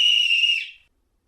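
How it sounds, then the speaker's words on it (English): A silver whistle is blown in one steady, shrill, high-pitched blast lasting under a second, then cuts off into silence. "she blew upon her silver whistle that hung around her neck."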